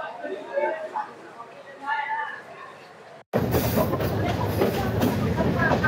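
A Ramna local passenger train, running from Parbatipur to Ramna Bazar, rolls along with a loud, steady interior rumble and rattle that begins abruptly after a few seconds of someone talking.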